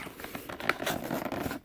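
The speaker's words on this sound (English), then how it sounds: "Open this thing up from the side. That is definitely an awesome rip right there." Cardboard packaging of a Pokémon Nature GX box torn open along its side, a short scratchy ripping with soft rustles, fairly close and quiet.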